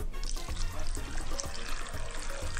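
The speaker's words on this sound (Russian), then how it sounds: "Заливаем тыкву водой." Water poured from above into a thick-walled pot of cut pumpkin pieces, a continuous splashing, gurgling pour with small knocks, close and fairly loud for a few seconds.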